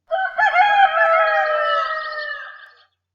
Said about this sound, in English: And you can also hear the sound of the rooster.